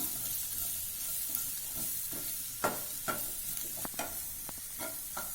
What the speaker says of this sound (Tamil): இப்போ 3 கலர் கேப்சிகம் எடுத்து வச்சுருக்கேன். ஒன்று ஒன்றா கலந்துக்கலாம். அதையும் சேர்த்து வதக்கணும்.